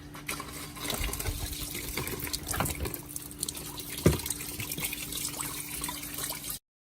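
Fluid drains out of the engine of a 2013 L405 Range Rover Supercharged, making a steady, close trickle and splash with one sharper knock partway through.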